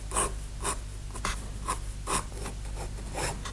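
A G pen nib scratches quick, light lines across paper while sketching a dragon, with a steady series of short, crisp strokes heard up close and no talking.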